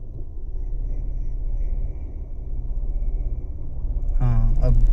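A car idling low and steady, pulling away uphill in first gear, the rumble building toward the end as the engine takes load, with a brief voice near the close.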